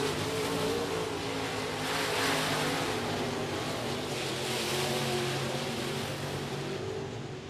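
IMCA Modified race cars on the final lap of a speedway main event, engines roaring in a continuous blended drone with swelling passes, heard from a distance.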